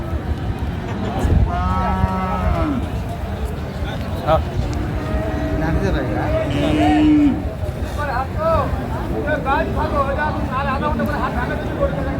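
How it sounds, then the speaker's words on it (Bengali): A Sahiwal bull at a busy cattle market gives a few drawn-out moos, fairly close, under steady crowd chatter and people talking. "ষাঁড় আমরা দেখছিলাম,"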